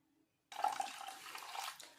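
Water splashes and swishes steadily after a brief quiet start, a close, continuous sloshing of rice grains being swirled and rinsed in a bowl.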